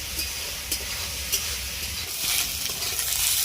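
Mushrooms stirred and fried in a wok to drive off their water, a continuous soft sizzle with scraping stir strokes and occasional clinks, fairly close and alone without talk.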